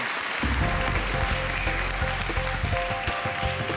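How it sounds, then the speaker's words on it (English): Applause at the Asian Achievers Awards 2017 ceremony, a steady, moderately loud clapping that continues across the hall over a low background hum and faint music. "Let's give a big round of applause for the charming and the naughty Nitin Ganatra."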